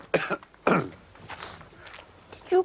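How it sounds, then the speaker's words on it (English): A man gives a couple of short, soft coughs or throat clears in a quiet indoor scene, brief bursts set apart by low background noise. "Did you cough"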